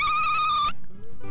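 A person imitates a dolphin with a high, bright, whistling squeal that holds for under a second and then cuts off abruptly into near silence.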